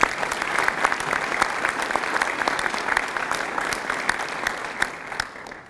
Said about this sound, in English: I'd like to do a special round of applause